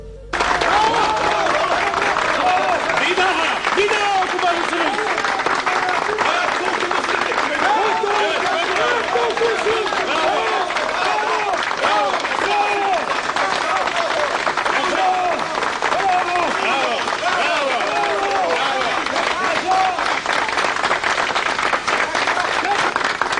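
A national assembly rings with sustained, dense applause for the recitation of the Turkish national anthem poem. The loud, unbroken roar of many hands runs steadily throughout, with crowd babble mixed in.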